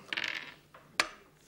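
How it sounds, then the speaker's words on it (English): Dice rattle and tumble on a board during a Monopoly game, giving a short clattering burst followed by a sharp click as they settle. Otherwise the moment is quiet. "Roll the dice."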